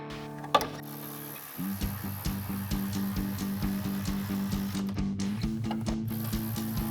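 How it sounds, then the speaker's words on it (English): A hand ratchet with a 10mm socket tightens bolts across the top of a 2016-2018 Chevrolet Silverado 1500 during a headlight install, a steady run of close, rhythmic metallic clicks after an initial clunk. "grab a ratchet, 10mm socket, and install our 4 bolts going across the top"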